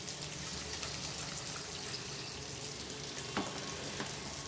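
Small fish curry sizzles steadily in a pan while being tossed and stirred, with soft rhythmic scrapes and bubbling crackle close by and no talking.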